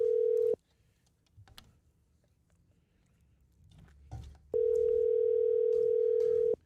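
A phone call rings out as long, steady electronic tones: one tone cut off early, a quiet gap with faint background noise, then a second sustained tone lasting about two seconds, clear and close.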